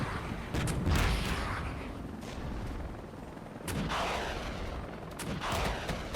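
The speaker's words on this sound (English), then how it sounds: "Yeah, the Lynx is still firing away." Repeated bursts of gunfire from a Lynx armored vehicle's cannon in a Regiments war-game skirmish, steady loud shots spaced over a rumbling battlefield background with no talking.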